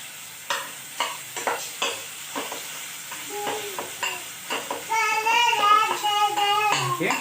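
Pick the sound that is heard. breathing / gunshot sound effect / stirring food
stirring food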